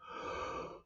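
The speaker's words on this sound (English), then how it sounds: "I'm always yawning when I'm recording videos of seeing myself." A person gives a single brief, soft yawn, a breathy open-mouthed exhale lasting under a second.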